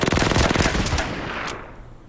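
An artillery shot fires from a fortress in the strategy game Order of Battle: Winter War on the Karelian Isthmus: a loud, dense crackling burst that rattles rapidly, then fades away after about a second and a half.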